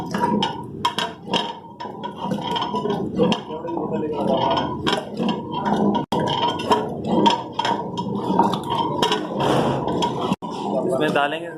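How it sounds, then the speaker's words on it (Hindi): A huge pot of 40-kilo commercial rabri kheer with sugar is stirred continuously, giving scraping and knocking sounds under steady talk throughout. "तकरीबन आधे घंटे से मुसलसल इसको चलाया जा रहा है।"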